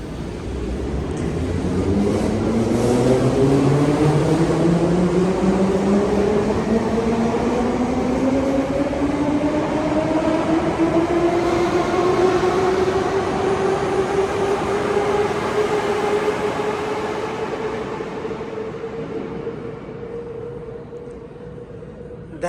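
A Moscow metro train in an underground station rumbles loudly as its motors whine upward in pitch while it pulls away, the roar swelling and then slowly thinning out.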